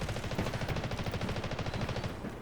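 Rapid automatic gunfire from the Delta Force video game rattles in a steady, fast stream of shots lasting a couple of seconds, moderately loud with no talk over it.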